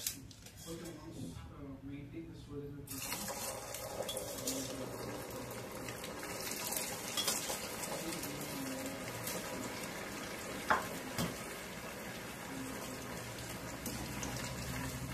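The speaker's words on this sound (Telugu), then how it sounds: "ఈ ఆయిల్లో బాగా డీప్ ఫ్రై చేద్దామండి వీటిని. చామదుంప ముక్కల్ని డీప్ ఫ్రై చేద్దాం." Pieces of taro root deep frying in a pan of hot oil, a dense, steady sizzle that rises abruptly after a quieter start and runs on continuously at close range.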